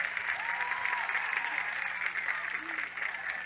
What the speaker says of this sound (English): let's give one more round of applause to the entire homecoming court and our amazing